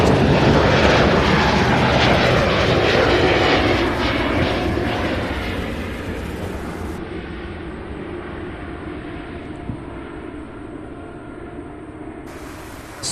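A Spirit Airlines airliner passes at Louisville International Airport, its broad jet engine roar loud at first and then steadily fading into the distance, with no talk.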